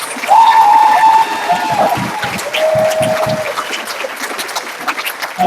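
Applause from a school winter concert audience honoring band students, a moderate, continuous patter of many hands that swells and dips slightly, with faint tonal sounds mixed in.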